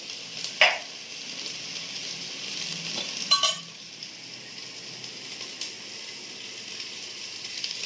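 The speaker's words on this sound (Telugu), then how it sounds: "చూడండి, ఉల్లి ముద్ద వేగింది." Onion paste fries in a pan for mutton curry, a continuous bright hiss of sizzling with a few louder clicks and stirring scrapes near the start and middle.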